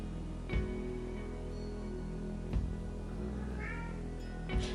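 An indoor house cat meows repeatedly while trying to get into a room. Several separate calls sound at irregular intervals, fairly close and clear over a quiet background.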